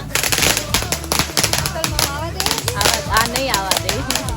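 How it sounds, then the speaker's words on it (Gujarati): Diwali firecrackers, mirchi bombs and sutli bombs, crackle and burst in rapid, loud, close strings, with people talking and shouting over the bangs. "હા મરચી બોમ્બ ને સુતળી બોમ્બ."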